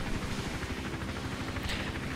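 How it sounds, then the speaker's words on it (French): Hovering helicopter in the stealth game Hitman Absolution, a steady rhythmic rotor thump and engine drone holding constant and fairly close throughout, with no talk. "pour pas que l'hélico il nous repère"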